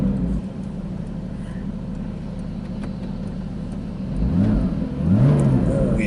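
Porsche Cayman engine idling with a steady low rumble, then revving up twice near the end, each rise louder and close by, with no talk over it.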